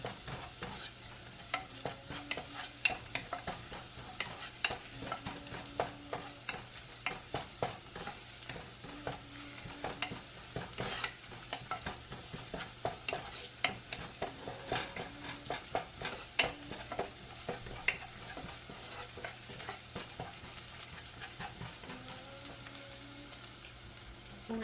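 Small onions sautéing in a pan for traditional Kerala rasam: a faint, continuous sizzle broken by frequent scraping clicks of a spoon stirring, with no voices.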